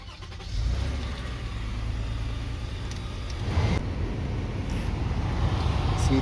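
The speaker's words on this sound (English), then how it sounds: "Let's turn the car on." A Toyota Sienna minivan engine cranks and catches, then settles into a steady idle, close and moderately loud, with a slight rise in revs partway through.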